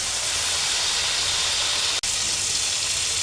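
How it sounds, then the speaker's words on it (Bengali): Peeled shrimp frying in a pan with a pinch of turmeric, a steady loud sizzling hiss that holds constant throughout, broken once by a very brief dropout. "এটাকে আমি 5 মিনিটের মতো ভেজে নেব চিংড়িটাকে"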